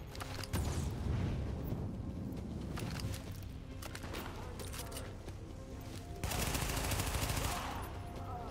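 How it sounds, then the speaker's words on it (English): MP5 submachine gun fire in Tom Clancy's The Division, dense rapid bursts running nearly the whole stretch with a louder flurry near the end, layered over a busy combat backdrop. "Am I using the MP5? Yeah. It's a really nice weapon."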